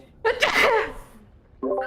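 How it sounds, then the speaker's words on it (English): One sharp, close sneeze bursts out in a live-stream setting, trailing off into a short lull before a voice starts speaking. "Oh my god, this shit's making me sneeze."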